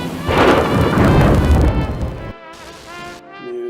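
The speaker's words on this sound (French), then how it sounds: "Oh, écoutez, ça fait de l'orage." Thunderstorm sound effect inside a recreated Tower of Terror ride: a loud, close rumbling thunderclap with broad roaring noise that cuts off abruptly, followed by a quieter tonal rumble.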